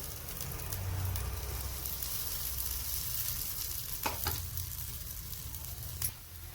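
Semolina appe batter sizzles steadily in a hot appe pan, a continuous close frying crackle with a few sharper pops near the end and no talking.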